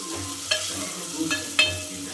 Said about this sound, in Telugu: గోల్డెన్ కలర్లో మనము ఆనియన్స్ని ఫ్రై చేసుకోవాలి. ఆ తర్వాత చెంచాడు అల్లం వెల్లుల్లి పేస్ట్ వేసుకోండి.